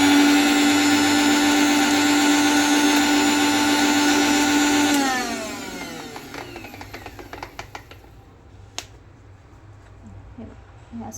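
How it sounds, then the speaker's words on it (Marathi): A mixer grinder runs loudly on spice paste with a little water for about five seconds, then cuts off and winds down, followed by faint scattered clinks and handling noises. "थोडंसं 1-2 चमचे पाणी टाकायचं आणि झाकण बंद करून परत एकदा वाटून घ्यायचं."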